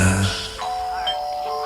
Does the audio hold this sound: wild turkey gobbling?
no